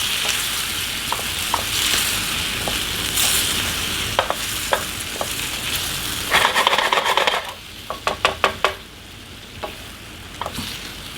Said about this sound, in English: What this does is help us get all the little stuff off the bottom of the pan. Call it deglazing.